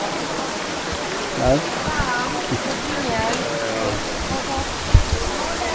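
A waterfall on the Levada das 25 Fontes trail in Madeira gives a steady, even rushing roar, with people talking close by over it.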